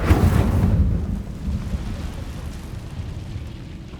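In the Hogwarts Legacy video game, an Incendio fire spell goes off with a loud, booming burst that fades into a low, rumbling crackle of flames over a few seconds, with no voices.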